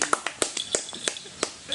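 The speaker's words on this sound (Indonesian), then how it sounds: "Tepuk tangan dong, tangan." An audience at a school show gives a few scattered, uneven claps in response to a call for applause. The claps are brief and sparse, with voices in the background.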